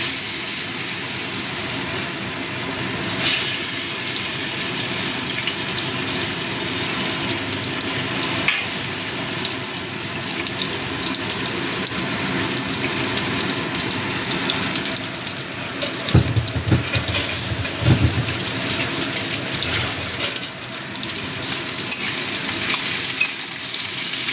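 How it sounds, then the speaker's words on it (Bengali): Olives stirred through spice-tempered oil in a pan for a chutney, giving a steady, close sizzle and frying hiss across the whole stretch with occasional stirring scrapes and a louder splutter burst midway. "জলপাইটা একটু এদিক ওদিক করে নেড়ে নেব।"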